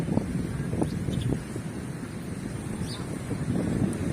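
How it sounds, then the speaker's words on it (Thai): Strong wind buffets an OPPO A73 phone microphone while walking outdoors in bright sun, a continuous low rumbling roar that swells and dips, with no speech. "ถ้ามีเสียงลมแทรกเข้ามาขออภัยด้วยนะ เพราะว่าเสียงลมค่อนข้างแรง"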